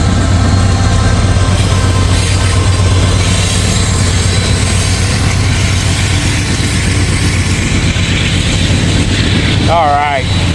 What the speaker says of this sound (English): we're wrapping it up with a hard-working DPU here. DPU coming through.